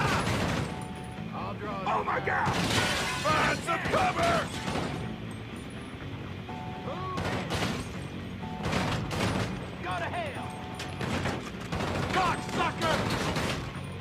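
Gunfire in the video game GTA5 comes in repeated rapid bursts and volleys with mechanical clatter, loud throughout with short pauses between exchanges and occasional voices.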